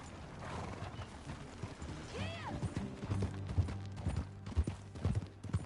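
Horse hooves clip-clop in an irregular walking rhythm in Red Dead Redemption 2, with a brief whinny partway through and tack jingling, all fairly faint.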